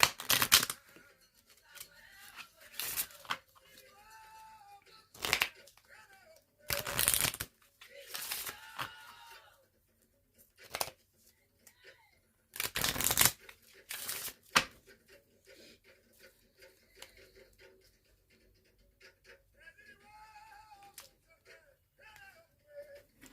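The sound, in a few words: shuffling a Goddess Oracle card deck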